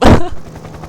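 A single loud, close shot from a crossbow in the X-Shot shooting video game, a sharp blast that decays quickly into quiet.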